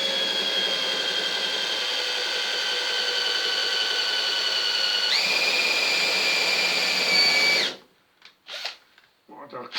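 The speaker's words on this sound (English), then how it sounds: "So we'll drill through that first." A small drill bit, about 1 to 1.5 mm, bores through body filler in the rear valance of a Ford Capri, a loud steady whine that steps up in pitch midway and then cuts off into short bursts.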